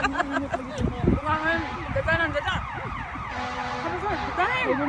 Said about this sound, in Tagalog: May bumbero na, day.